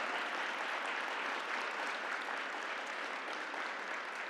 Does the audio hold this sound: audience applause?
yes